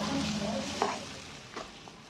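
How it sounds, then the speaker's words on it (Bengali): A filling of raw banana and potato is stirred in a pan over very low heat, giving a gentle continuous sizzle with a few soft spoon scrapes against the metal. "এইভাবে আমি নেড়ে নেড়ে রেডি করে নিলাম"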